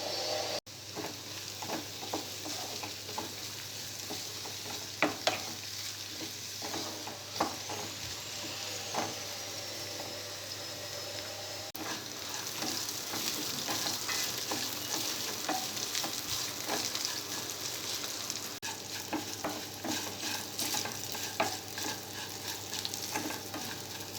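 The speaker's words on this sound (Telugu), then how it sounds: "ఈ కాకరకాయ ముక్కల్ని మూత పెట్టి సిమ్లో బాగా ఫ్రై చేసుకోవాలి" Bitter gourd pieces fry in a covered pan over a low flame with a quiet, continuous sizzle, broken by occasional clicks and light stirring knocks.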